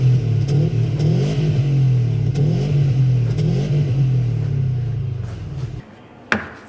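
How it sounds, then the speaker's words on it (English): A Subaru S209 with a custom four-muffler exhaust revs repeatedly, its deep exhaust rumble rising and falling in rhythmic surges before cutting off, followed by a brief clunk. "the custom 4-muffler exhaust system"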